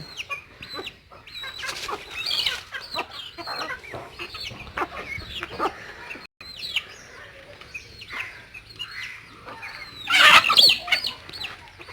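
Chickens on a small backyard poultry farm in Manjeri, Kerala, clucking and chirping in an irregular, busy chorus near and far, swelling into a louder flurry near the end, with no talk over it.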